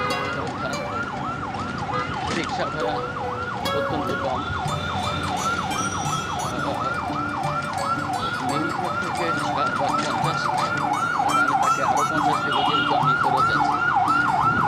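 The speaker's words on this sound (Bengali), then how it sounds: "ঢাকাতেই একটা সমস্যা সারাক্ষণ সাইরেন বাজতেই থাকে অ্যাম্বুলেন্সের" An ambulance siren wails continuously in a steady rising-and-falling cycle on a busy Dhaka street near Dhaka University and Nilkhet, loud over traffic rumble, with someone speaking briefly in the background.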